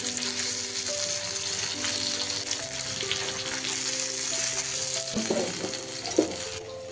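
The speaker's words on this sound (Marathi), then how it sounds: "बघा, आता एकदम छान भाजीला उकळी आली." A vegetable curry bubbles and sizzles steadily in a pan for a home fish thali, a continuous bright hiss with faint tonal hum underneath and a couple of brief stirring clinks near the end.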